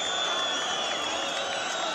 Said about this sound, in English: Crowd doesn't like it, obviously.